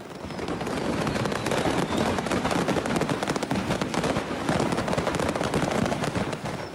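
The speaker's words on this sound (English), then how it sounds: "The sky over southern Russia has erupted in colour when a fireworks factory caught fire" Dense, continuous crackling and banging of fireworks exploding in a burning fireworks factory in southern Russia, going off in rapid succession, loud and chaotic throughout with no pauses.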